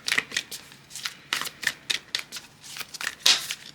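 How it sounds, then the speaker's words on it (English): A deck of tarot cards is shuffled by hand in quick, crisp riffling bursts, about a dozen rapid flicks close to the listener with no talking. "one more shuffle"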